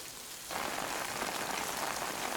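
Timefall rain in the video game Death Stranding, a steady dense hiss of rainfall that swells in abruptly after a moment and then holds evenly, close and fairly loud with no talk.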